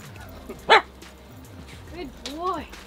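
A dog at a doggy daycare gym gives one sharp bark, then several whiny yips and whimpers, close by over a low room rumble while a person talks.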